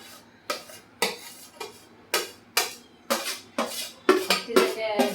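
A spoon scrapes and knocks against a pan while green gram flour roasts in ghee on low heat, giving sharp, regular strokes about every half second that grow busier toward the end.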